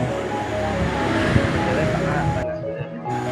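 Surf at Ambal Beach in Kebumen washes in as a steady, loud roar of waves mixed with gusting wind, briefly dipping near the end, with a faint voice underneath.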